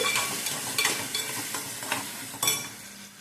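Masala with tomatoes frying in a pan, a loud close sizzle with bursts of stirring and scraping strokes every second or so, no voices.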